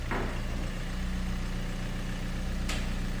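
A camper van's engine idles steadily to warm up before an engine flush and oil change, giving a constant low rumble with a faint hiss and no talk.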